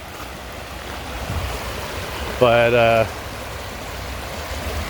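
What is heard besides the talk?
high creek flowing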